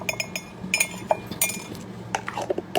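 A spoon clinks against a cup while instant coffee is stirred and prepared, a run of bright, close metallic taps and scrapes in quick irregular bursts, with no talking.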